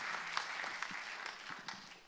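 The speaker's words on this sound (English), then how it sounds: "Give these guys a round of applause." A church congregation applauds after a band's performance, giving a dense, steady wash of many hands clapping at a moderate distance.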